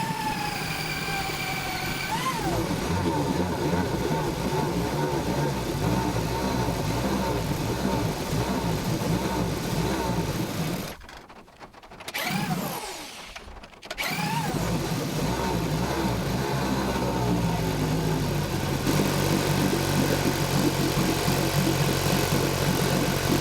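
A rebuilt two-stroke Johnson outboard engine runs at a steady idle, a close, continuous tonal drone with layered harmonics that dips and wavers briefly midway before settling back to an even hum.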